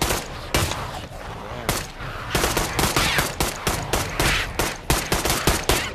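Rapid automatic gunfire shooting zombies in the virtual reality game Pavlov, with dense bursts of loud, close shots, some single cracks and a few brief gaps between volleys.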